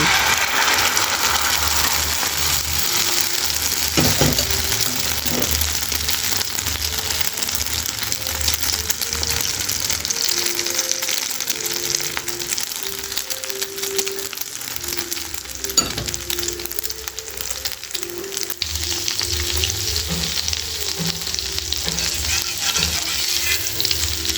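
Egg frying in oil in a pan for a Kenyan chapati rolex: a continuous close sizzle holding steady throughout, with occasional soft scrapes and clinks of utensils.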